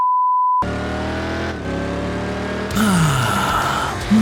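A rough, low-pitched engine note from a Plymouth Hemi Cuda muscle car follows a short tone, rumbling steadily close by and then swelling louder near the end as the revs rise.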